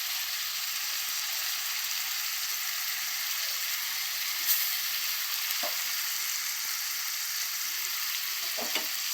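Chicken fries with chili powder and curry leaves in a pan, giving a steady, dense sizzle throughout, with a few faint clinks and scrapes near the end.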